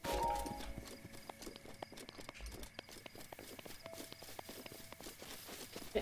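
Horse hooves clip-clop in Zelda: Breath of the Wild on Nintendo Switch, a steady walking rhythm of hoofbeats close by over game ambience with musical tones, with no talk.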